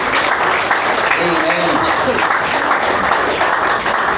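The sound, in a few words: applause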